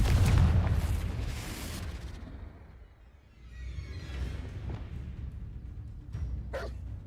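Confringo fire spell from the video game Hogwarts Legacy, a loud booming blast that rumbles and fades over a few seconds, followed by a softer second impact and sharp crackles near the end.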